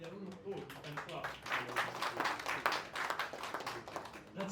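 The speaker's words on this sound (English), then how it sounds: "oh, you can clap" Audience clapping breaks out at a financial results talk on Bank of Baroda, a dense patter of hands that swells and holds for several seconds, fairly loud and close, with a voice briefly heard at the start.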